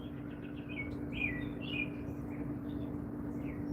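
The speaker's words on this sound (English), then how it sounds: "Can you guys hear the birds?" Small birds chirp outdoors near bird feeders in short, repeated tweets at moderate distance, over a steady hum and background hiss, with no one speaking.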